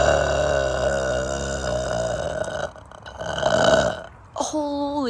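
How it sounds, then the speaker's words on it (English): A person lets out a long, loud, drawn-out burp lasting several seconds with a rough gurgling texture, then a second burp follows after a short pause, ending in a brief higher vocal sound. "I just wanted to do one last burping"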